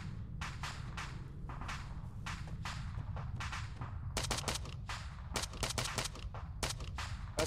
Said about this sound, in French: On prend des tirs.